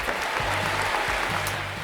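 Applause from a crowd as a greeting: a steady, even wash of many hands clapping, fairly loud and continuous throughout the short stretch.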